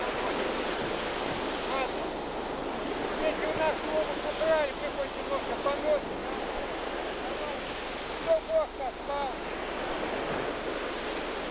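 Waves of the Sea of Azov wash onto the shore in a steady, continuous roar, mixed with wind noise on the microphone, while people talk over the surf throughout.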